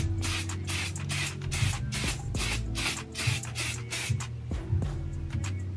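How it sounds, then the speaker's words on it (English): Kyrolan makeup setting spray hisses in a long run of close, repeated bursts, each short spritz following closely on the last, with a steady hum running low beneath them. "It's called Kyrolan makeup spray."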